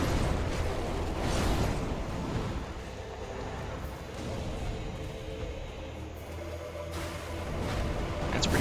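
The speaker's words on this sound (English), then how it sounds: "Throw all your black fire bombs." Fire bombs bursting in Dark Souls 3 during the Gundyr boss fight, heard as a steady roar of fiery blasts and crackling with a few louder swells.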